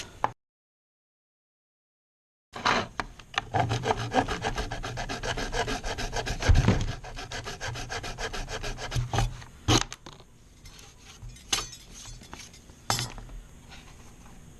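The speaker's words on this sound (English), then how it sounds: "So I'm just going to saw it off and sand it down." A side cover mount on a 1982 Suzuki GS650GL motorcycle is sanded down, giving close, steady rasping strokes in quick repeated rhythm after a short silence, with a few sharper knocks and scrapes near the end.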